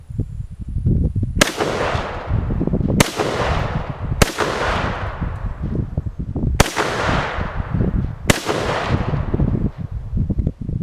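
A Tula-built 1953 Russian SKS rifle fires full metal jacket rounds outdoors, five loud, sharp shots spaced a second or two apart, each with a long decaying echo, and no voices in between.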